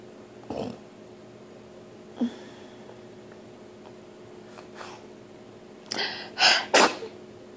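A four-month-old baby sneezes in short bursts: one sharp sneeze, a smaller one, a softer one, then two or three louder sneezes close together near the end, close up in a quiet room with no talking.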